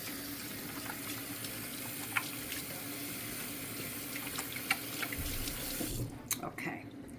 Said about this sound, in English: always want to wash those hands really,